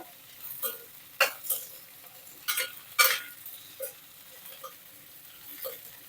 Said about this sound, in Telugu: కరివేపాకు కూడా ఇందులో వేసేసుకుందాం ఈ కొంచెం కరివేపాకు కట్టే పెడదాం చూడండి చక్కగా ఇలా కలిపేసుకోవాలన్నమాట